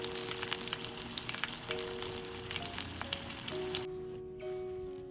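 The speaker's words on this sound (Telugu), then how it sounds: "లాస్ట్లో కొంచెం కరివేపాకు వేసుకున్నాము ఇప్పుడు పోపు ఆపేయాలి" Red chili pickle tempering with curry leaves sizzles steadily in hot oil, a dense, close crackling hiss that fades slightly toward the end.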